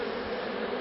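Honey bees buzz steadily around hive frames returned after honey extraction, a dense, continuous close-up drone of many wings with no pauses or voices.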